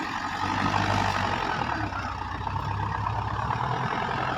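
Two tractors, a 6610 and a 9540, work a field together, their engines producing a steady, loud, low diesel rumble that continues without a break.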